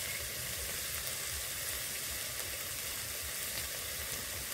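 Turmeric, cumin, coriander and chili powder sizzling in hot oil while being sautéed for palak chingri, a steady, dense frying hiss that carries on without a break, no voices.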